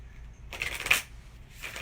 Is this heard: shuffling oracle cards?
yes